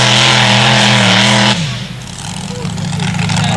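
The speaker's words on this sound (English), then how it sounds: "Chevy 572 kicking up the dust" A tractor-pulling machine powered by a Chevy 572 engine roars loudly at full power, its high-pitched howl dropping sharply midway as the run ends, with a commentator talking over the engine throughout.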